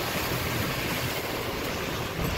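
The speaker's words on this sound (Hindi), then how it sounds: "नदी का विकराल रूप ये देखिए" Raging river beside the broken NH 44 highway in Jammu and Kashmir, a continuous, loud roar of rushing water that holds steady throughout, mixed with wind-like hiss and no voices.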